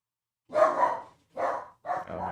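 A pet dog barks three times in quick succession, close and loud, with short pauses between the barks and the last one drawn out into a rougher, double-sounding bark.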